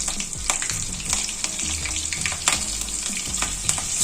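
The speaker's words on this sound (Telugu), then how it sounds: "ఆయిల్ వేడైంది, కొంచెం జీలకర్ర వేసుకోవాలి." Cumin seeds and green chillies sizzling in hot oil in a pan while cooking chole curry: a continuous bright crackling fry with sharp pops and light stirring scrapes, close and steady throughout.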